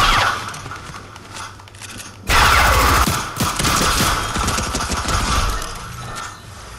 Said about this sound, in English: There is more gunshots.